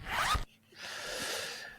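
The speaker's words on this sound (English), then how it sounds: "I was waiting for the zip." A clothing zip yanked in one quick, loud, close rasp, followed after a brief pause by a longer, softer zipping drag, with no voices.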